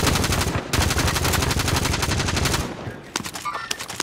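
Sustained automatic gunfire in Call of Duty: Modern Warfare, a loud rapid machine-gun burst rattling for over two seconds close by, followed by a few scattered single shots and faint clatter as the firing stops.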